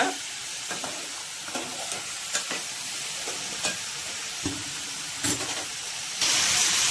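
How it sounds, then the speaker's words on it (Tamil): Vegetables being lightly sautéed in a home kitchen, including banana stem, drumstick and brinjal; a continuous frying hiss with occasional spatula scrapes and taps against the pan, and a louder surge of sizzling right at the end. "இந்த காயும் லைட்டாக வதங்கத்தோங்க"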